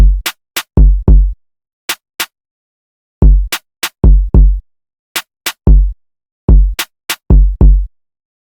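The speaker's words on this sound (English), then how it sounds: "So with just the kick and snare, it would sound like this." A dry kick and snare drum pattern plays alone in a sparse, bouncy groove, punchy low hits paired with sharp snare cracks, repeating in clear phrases with gaps of silence between.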